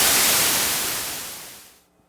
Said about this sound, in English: So we actually got white noise and pink noise right near here